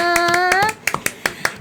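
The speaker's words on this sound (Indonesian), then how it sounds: "Tepuk tangan dulu dong untuk topiknya." A few scattered hand claps, sharp and close, follow a held electronic tone and drop into a sparse, uneven patter for the podcast topic.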